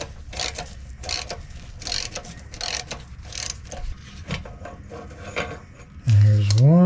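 A ratchet on the dust shield bolts of a 1968 Pontiac LeMans gives bursts of rapid close clicking, pausing between strokes, before a louder rising whir cuts in at the end.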